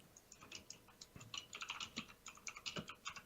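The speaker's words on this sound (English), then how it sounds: "Fiskix typing" Quick irregular clicking of computer keyboard keys, soft and close, in bursts of rapid taps with brief pauses, no voices.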